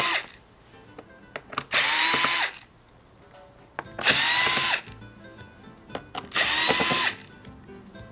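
A power screwdriver removes screws from the cover of a Shuttle X50 touchscreen all-in-one PC, with three loud, close whirring bursts of about a second each, separated by quieter handling clicks.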